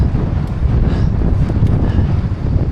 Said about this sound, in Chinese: 哇，这大风真刺激！